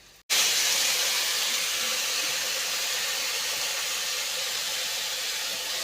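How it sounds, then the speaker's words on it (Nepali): Fiddlehead ferns (niguro) cooking in a pot give off a loud, steady steamy hiss that starts abruptly and holds evenly throughout, with no voices. "मैले चाहिँ अघि ल्याएको निगुरो पकाउन आँटेको"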